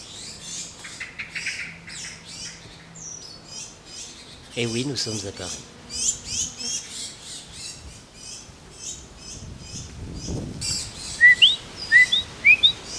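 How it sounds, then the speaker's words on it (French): Small tits in Paris chirp and squawk in quick, excited bursts, near and fairly clear, amid street noise. Someone speaks briefly partway through. "Ils sont hystériques. Petites mésanges."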